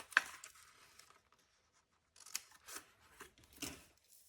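Scissors trim paper for a scrapbook double-page layout: one sharp snip, then a quiet pause, followed by a run of several close, crisp cuts, alone without talk.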